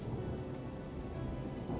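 Rain and thunder in the Final Fantasy VII Remake video game: a dense, steady hiss of rainfall with a low rumbling roll underneath, continuous and fairly loud with no voices.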